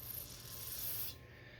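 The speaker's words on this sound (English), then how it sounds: "I'm gonna spray some carb cleaner on it just to make sure." Carb cleaner sprayed from an aerosol can onto a part of an old Honda outboard motor, a close hissing spray lasting about a second before cutting off.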